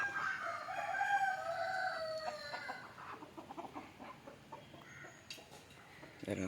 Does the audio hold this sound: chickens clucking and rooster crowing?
yes